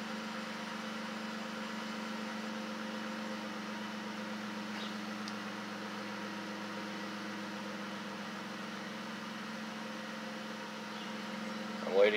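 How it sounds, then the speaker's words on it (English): A car's V6 engine with a homebrew custom CAI charger setup idles steadily nearby, producing a constant low droning hum with an even level throughout. A brief, slightly louder noise comes right at the end. "Waiting to see if the car idles down more."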